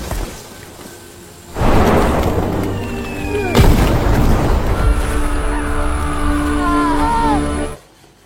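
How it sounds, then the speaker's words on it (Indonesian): A sniper rifle shot in a war film lands as a sudden heavy boom, followed by a second sharp crack and a long rumbling, ringing tail beneath the film's score. "Dan akhirnya tembakan pun dilepaskan."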